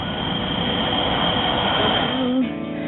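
A train passes through a suburb in a loud, steady rumble of wheels and carriages, close by, with a brief wheel squeal near the end.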